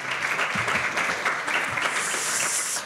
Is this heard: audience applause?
yes